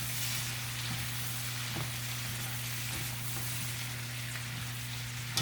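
Leeks and vegetables sizzle quietly in real butter, a soft, even hiss with faint crackles over a low hum, and no talking.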